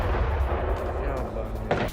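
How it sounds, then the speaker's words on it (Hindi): Deep booms and rumbling blasts from drone attacks in Odesa, Ukraine roll beneath a voice talking over them, with a sharper crack of explosion near the end. "यूक्रेन के ओडेसा में भीषण हमला, एक के बाद एक ड्रोन अटैक से कई विस्फोट हुए।"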